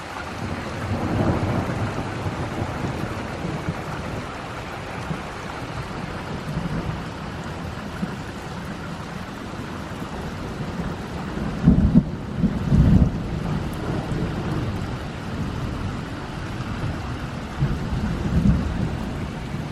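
A fall thunderstorm with steady rain and rushing wind noise, broken midway by loud, close thunder rumbles and cracks, with another softer roll toward the end.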